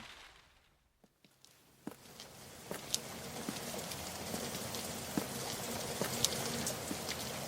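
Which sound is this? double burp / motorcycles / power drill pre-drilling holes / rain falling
rain falling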